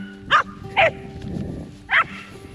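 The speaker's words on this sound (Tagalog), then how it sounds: "Ayan aso namin Burgo." A dog barks three times at close range, in sharp single woofs spaced about a second apart, with faint outdoor rustling and a low hum behind them.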